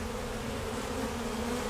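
Honey bees buzzing during a hive removal in November, a dense continuous hum of many insects held close and steady throughout.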